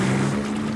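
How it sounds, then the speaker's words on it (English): Cartoon toy boat speeding across water, a short buzzing motor drone with a steady low hum and light splashing, close and continuous, no voices. "Oh, Mummy Pig, I think my boat can go faster than a duck."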